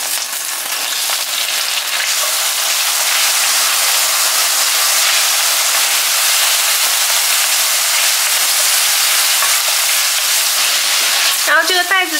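Scallops sizzle loudly and evenly in hot oil in a pan, a dense continuous frying hiss with a brief squeaky scrape near the end.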